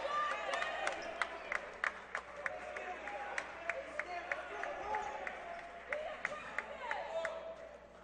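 Basketball arena crowd cheering and clapping as a player checks into the game, a steady murmur of voices broken by scattered claps and shouts, with a commentator talking over it.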